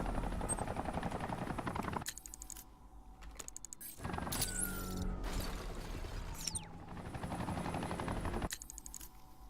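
Gunfire in Batman: Arkham Knight comes in rapid automatic bursts, loud and close at the start and again later, separated by quieter stretches of mechanical whirring and game ambience.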